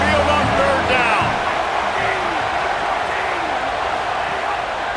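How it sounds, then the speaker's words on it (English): Stadium crowd roaring loudly on 3rd down at a college football game in EA Sports College Football 27, a dense, continuous wall of crowd noise with occasional whoops and a faint voice underneath. "The Tide crowd rolling noise down on the Saban field on 3rd down."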